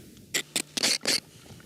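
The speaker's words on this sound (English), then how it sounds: "That's the sound of sand being scraped off my lunch." Sand scraped off bread baked in the desert sands, heard as four short, close scratchy rasps, the last two longer, against a quiet outdoor background.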